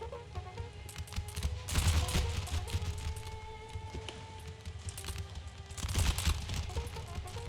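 Musket volleys in an Empire: Total War battle crackle as dense, overlapping gunfire, with two louder bursts of massed firing standing out against a continuous rumble of distant shots.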